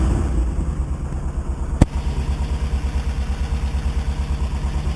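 A 1977 VW Bus Riviera camper's engine runs at a steady idle, close by, with an even rhythmic pulsing throb and one sharp click partway through.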